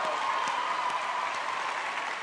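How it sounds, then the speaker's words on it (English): A talent show audience applauds steadily, a dense wash of clapping that holds at an even level for a couple of seconds. "Round of applause for teachers"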